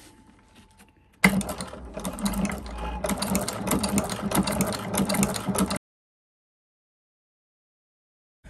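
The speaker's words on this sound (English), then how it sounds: "just brought it over here to the sewing machine real fast. I'm going to show you really quick stitch across the bottom of these" A sewing machine stitches across the bottom of leather pockets on a bifold money clip, running in one steady mechanical burst of about four and a half seconds after a quiet start, then stopping abruptly into silence.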